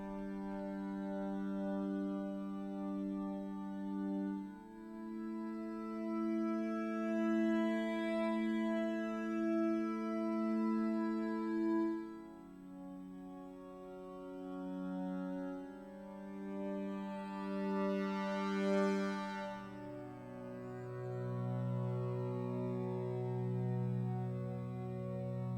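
A sustained synth pad shifts slowly through chords, its tones washed in spacious reverb with shimmering high sweeps, no voices.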